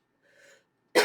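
A single sharp cough bursts out suddenly after a soft breathy vocal sound, loud and close to the microphone, from a woman with a cold and a stuffy nose.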